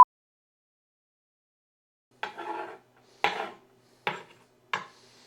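A kitchen knife cutting onion on a board for gumbo, four separate short chopping strokes with brief rasping slices, spaced about a second apart, close and clear in a quiet room.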